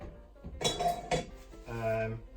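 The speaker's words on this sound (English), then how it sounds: "What I'm going to do is get a big pan, put this sunflower oil in it" A big metal pan clatters and clinks as it is handled while sunflower oil is added, with a couple of sharp knocks followed by a brief ringing scrape, fairly quiet and close.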